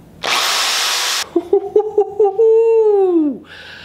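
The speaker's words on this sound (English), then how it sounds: "I found these Nylox brushes that fit in your hand drill." A hand drill spinning a Nylox brush for shou sugi ban woodwork whirs loudly with a broadband spinning sound for about a second, then stops, followed by a voice.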